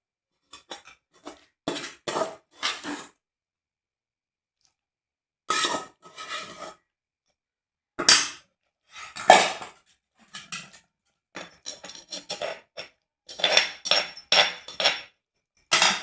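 Gongura leaves pounded coarsely for chutney, heard as bursts of sharp knocks in clusters with pauses between, close and fairly loud with no talking.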